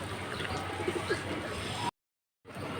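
Silver high-flying Giribaz pigeons coo softly at a pigeon market against a steady background hum, a few low murmuring calls, with a brief dropout near the end.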